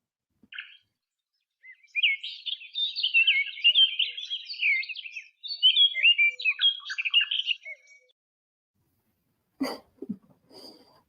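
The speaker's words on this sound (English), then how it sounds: "I used to have different bird chirping sounds with that video" Recorded bird chirping: a quick run of bright, high tweets and trills in two bursts over several seconds, clear and fairly close, with a short low thump near the end and no talk.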